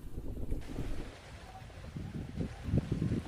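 Strong wind blows at an outdoor shooting range during turtle-dove hunting, buffeting the microphone in low, gusty rumbles that swell and fade throughout.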